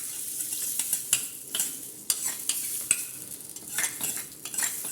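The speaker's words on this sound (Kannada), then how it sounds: "ನಾನು ಒಗ್ಗರಣೆ ಹಾಕ್ಕೊಂಡಿದ್ದೇನೆ ಅಷ್ಟೇ." A spice tempering for jackfruit sambar crackles in hot oil while a spoon stirs and scrapes the pan in repeated close bursts over a continuous sizzle, with no voices.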